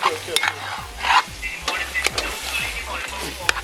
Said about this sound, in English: So we're gonna let this fry up in the pot for a couple minutes